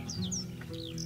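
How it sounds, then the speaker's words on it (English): A bird cries with a few short, high, sliding whistled calls over a steady low background hum. The calls are brief and fairly clear. "In the sky a bird was heard to cry."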